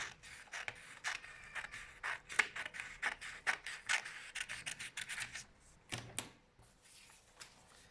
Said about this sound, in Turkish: Öncelikle kağıdımızdan bir şerit keseceğim.